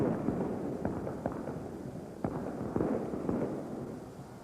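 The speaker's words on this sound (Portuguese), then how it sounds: "Torcedor do Palmeiras começa a soltar os foguetes que guardou para a classificação." Palmeiras fans setting off fireworks at a football stadium during a 1983 Brazilian championship match against Vasco, a dense crackle of distant pops over a constant loud crowd roar.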